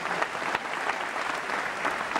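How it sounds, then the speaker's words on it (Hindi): Dense, sustained applause from a crowd at an awards event, steady and loud throughout with no pauses. "तो एक जोरदार तालियां होनी चाहिए अली जी के लिए और राजीव के लिए, जोरदार तालियां होनी चाहिए।"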